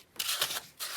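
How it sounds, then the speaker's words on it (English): Quiet, close scratchy rubbing in two short strokes of sandpaper worked back and forth against a small handmade card. "we need to sand it a little though"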